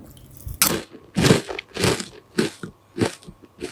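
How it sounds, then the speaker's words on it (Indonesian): Crunchy round peanut peyek crackers are bitten and chewed close up, giving about six sharp, crackling crunches spaced roughly half a second apart against a quiet background. "Ini hasilnya garing dan renyah, rasanya gurih"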